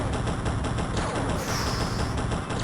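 Sustained heavy automatic fire against a Muton battleship in the video game XCOM forms a dense, loud, continuous roar of thudding shots, with no voices.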